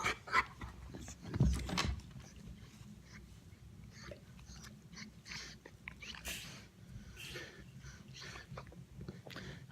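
Great Dane puppies pant quickly and steadily nearby, with a few soft whimpers and brief snuffles breaking in at the start.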